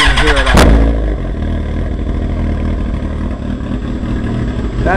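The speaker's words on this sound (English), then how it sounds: "That's the bike at a complete idle," A 2006 Suzuki GSX-R 1000 sportbike fitted with a Hotbodies slash cut exhaust idles loud and close, a steady deep rumbling throb after a brief rev at the start, with a slight rise at the end.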